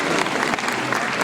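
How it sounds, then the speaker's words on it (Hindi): Audience applause at a dance tribute program, a dense steady wash of many hands clapping close and loud with no pause. "तालियों के साथ अभिनंदन, अभिवादन।"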